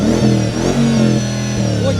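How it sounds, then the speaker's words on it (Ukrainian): A 2014 Mercedes G63 V8 engine revs loudly up close, deep rumbling pulses rising and falling with a steady throaty idle underneath. "Ну а звук мотора це насолода для сусідів"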